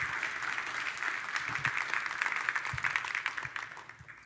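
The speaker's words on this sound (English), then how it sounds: "Give Lindsay another round of applause." An audience at a leadership speaker event gives a dense round of applause, full and steady throughout, with a few stray voices underneath as it continues.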